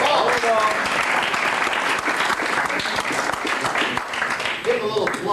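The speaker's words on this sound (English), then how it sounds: "Give him a little applause." A roomful of people at a Kiwanis club meeting in La Mesa claps in sustained applause, with a few voices audible beneath the clapping.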